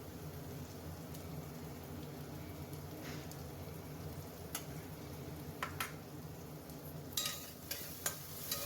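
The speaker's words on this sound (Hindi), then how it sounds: "अब इसे हमें अच्छे से थोड़ा थोड़ा चलाते रहना है।" Peas and vegetables cook in a pan for baingan bharta, a soft, even sizzle running throughout while a spoon stirs, with scattered scrapes and clinks growing busier near the end.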